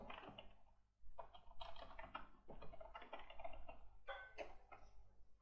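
Keys clattering on a computer keyboard as a command is typed, bursts of quick close clicks with a short pause early on, alone and fairly faint.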